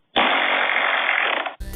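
A lawnmower-style fart sound effect from a fart app: one loud, sustained buzzing rasp lasting about a second and a half that cuts off abruptly, followed by a short burst of different noise.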